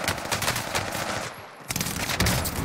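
AS44 assault rifle fire in Call of Duty Warzone on Rebirth Island, rapid loud automatic bursts with a brief pause in the middle before firing resumes.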